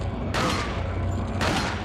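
Two sharp gunshot blasts from a Resident Evil 4 headshot ring out about a second apart, each a loud broadband burst with a short decaying tail over steady game background noise.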